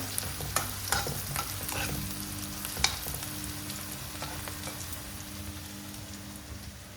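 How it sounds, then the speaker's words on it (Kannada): Onions for palak paratha fry steadily in a pan, a continuous close sizzle with a few scraping stirs and light clicks early on. "ನೋಡಿ, ಉಳ್ಳಾಗಡ್ಡಿ ಫ್ರೈ ಆಗೈತಿ"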